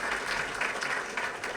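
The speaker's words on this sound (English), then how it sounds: "thank you for such a warm round of applause" A warm round of applause from an audience at a harbor place unveiling ceremony, steady dense clapping throughout at an even level.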